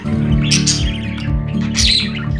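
Pet budgies chirp and warble in a lively cluster, bright overlapping tweets rising and falling over a steady hum, close and fairly loud throughout.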